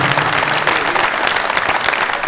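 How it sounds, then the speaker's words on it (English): A crowd claps steadily and loudly for community leaders at a hometown celebration in Providence, Rhode Island, with dense applause throughout. "please, a round of applause for our community leaders and officials that are here with us today supporting this event"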